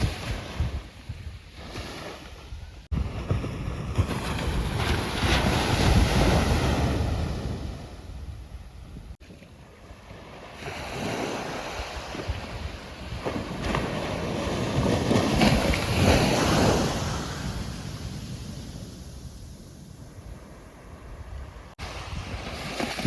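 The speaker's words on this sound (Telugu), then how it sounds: "ఉదయాన్నే ఎంతో ప్రశాంతంగా ఆ అలలు చేసే సవ్వడి మాకు స్వాగతం పలికాయి" Sea waves breaking and washing ashore at Prayagi beach in Odisha on a calm morning, a steady broad roar that swells and recedes in long surges, with wind buffeting the microphone and no voices.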